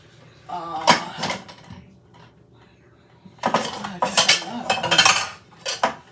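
Dishes, bowls and lids clinking and clattering as items are shifted around inside a crowded kitchen cabinet, a few close knocks early, then a busier run of rattling, with a voice speaking faintly between.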